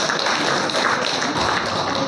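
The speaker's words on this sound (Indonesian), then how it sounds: "Tepuk tangan dulu kita untuk Pak Nimro." An audience at a speech event applauds Pak Nimro with a continuous wash of clapping from many hands, steady and fairly loud across the whole stretch.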